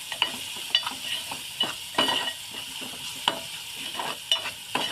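Red chili powder and spices sautéed in oil for a dry prawn curry, a moderate sizzle under repeated rhythmic spatula scrapes and taps against the pan, with no one speaking.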